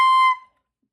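Clarinet played with the mouthpiece held too far out, giving a short, shrill high-pitched squeak that cuts off abruptly and decays within half a second into silence.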